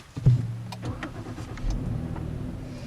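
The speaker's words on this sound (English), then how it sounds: "the V6 actually makes a pretty nice sound at startup, and it's very quiet and smooth" A 2013 Ford Taurus Limited V6 engine cranks and catches near 0.3 seconds with a short low thump, then settles into a quiet, smooth, steady idle close by, with no talking.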